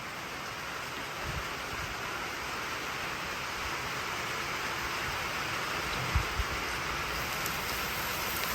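Heavy rain pours down outdoors beside a flat top grill, a dense, steady hiss of drops drumming on surfaces, with a couple of low thumps of distant thunder or impacts near the end.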